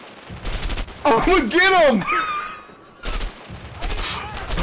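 Rapid gunfire in the co-op video game A Way Out comes in loud bursts at the start and end, with excited voices talking over and between the shots.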